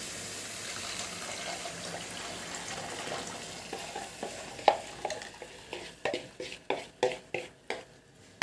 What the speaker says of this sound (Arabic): هنقلب بس الثوم لحد ما ريحته كده تفوح معانا